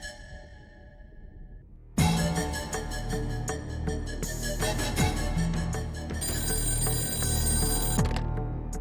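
A telephone rings loudly with a bright, repeating electronic bell tone, preceded by a quieter tone before the main ringing starts.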